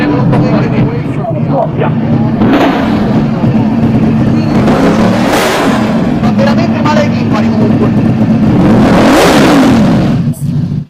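A 2025 Ducati Panigale V4 with a loud race exhaust lacking a decibel killer revs on a dyno, very loud engine roar with repeated surging rev swells that peak twice before cutting off abruptly.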